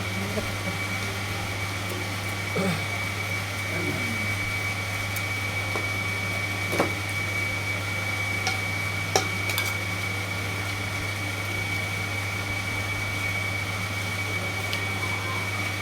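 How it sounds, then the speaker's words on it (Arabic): An electric motor runs noisily indoors at home with a steady loud hum and whine throughout, with faint clinks and occasional soft voices in the background. "الموتور يا احمد بيبقى صوت مزعج جدا على فكره في الفيديو"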